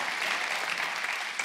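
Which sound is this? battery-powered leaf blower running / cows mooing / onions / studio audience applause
studio audience applause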